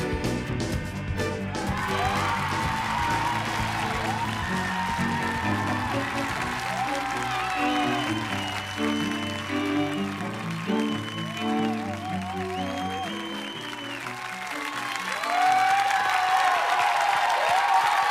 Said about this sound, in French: Des doubles applaudissements.